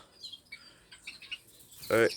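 Small birds chirp and tweet in an outdoor aviary at night in mid-December, with faint scattered calls followed by one louder, closer burst of chirping near the end.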